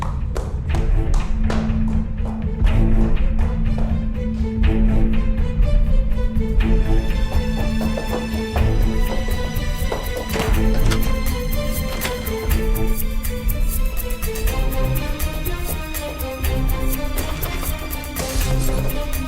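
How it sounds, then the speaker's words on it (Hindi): Repeated thumps of a fist banging on a door in a TV drama, steady knocks running for many seconds under loud dramatic music, with no talk. "सनम, दरवाजा खोलो।"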